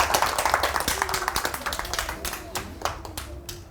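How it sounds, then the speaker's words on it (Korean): Audience at a seaside marine-life public lecture claps on request, a brief round of hand clapping with sharp dense claps that taper off over a few seconds, with a voice faintly present. "박수 한번 쳐주세요."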